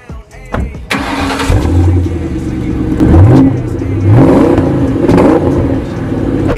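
A supercar's engine fires up after a brief crank, then revs repeatedly in loud rising and falling surges, close by and filling the whole stretch.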